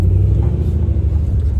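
A Chevrolet Camaro ZL1 with QA1 coilovers pulls away, a deep, loud engine rumble held steady and close for a brief moment.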